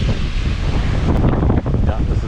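Strong wind blasts and roars through a storm with heavy rain near the shore, where waves are rough. The gusts buffet the microphone in a loud, continuous rumble.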